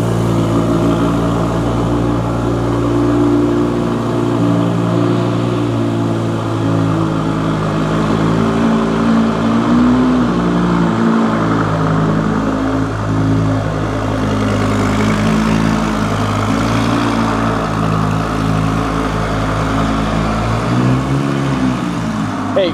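A powerful V10 car engine rumbles at idle and blips through several revs, loud and close, a continuous throaty drone with rising and falling pitch.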